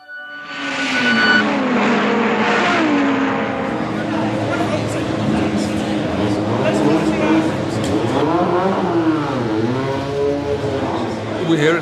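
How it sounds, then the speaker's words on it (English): Race cars in a celebrity race at Silverstone, their engines roaring loudly and continuously with rising and falling revs as they accelerate and pass, with a voice talking over them. "We're here at Silverstone, and I'm driving in a celebrity race."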